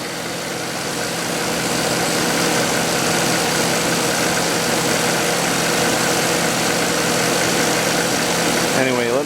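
A Chevrolet Caprice PPV engine idles steadily while warming up, a continuous, loud, close rumble with a fan blowing, and a brief squeak right at the end.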